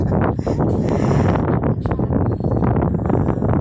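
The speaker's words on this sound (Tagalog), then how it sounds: "Napakasariwa ng hangin dito mga kamams." Steady wind blowing across an open riverbank in the afternoon, a constant low rushing roar with buffeting gusts on the microphone throughout.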